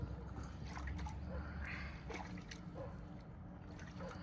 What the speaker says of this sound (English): So she's washing the teats with water.